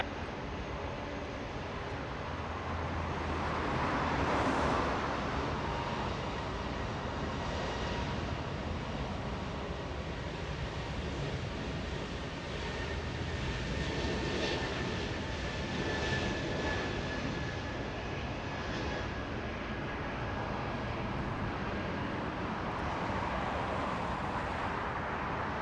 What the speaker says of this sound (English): Delta 2947 flying to Portland, lifting off pretty early.